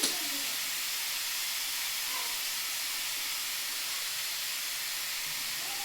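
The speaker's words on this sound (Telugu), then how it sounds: "ఈ ఆయిల్ అయితే ఇప్పుడు హీట్ చేసుకోవాలి" Oil heats in a pan for chicken pickle, a steady, even hiss that holds at the same level throughout.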